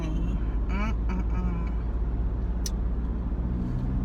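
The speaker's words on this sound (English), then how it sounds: "Nothing like a little bit of traffic on Route 3A." Car traffic on Route 3A heard from inside a vehicle: a steady low engine and road hum with passing-vehicle swells, a brief hiss, and a person talking over it.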